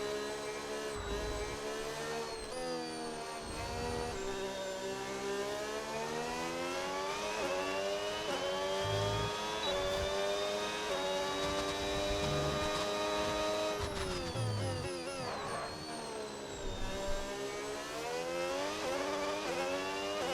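Engine of an F1 race car in the F1 26 video game, an underdeveloped MyTeam car, revving and accelerating with rising and falling pitch sweeps and gear changes, loud and continuous with no talk.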